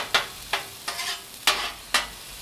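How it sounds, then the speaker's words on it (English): Five scraping stirs of mushrooms sautéing in a hot pan, roughly evenly spaced, each a short sizzling burst over a quiet background hiss. "We got our mushroom sauteing"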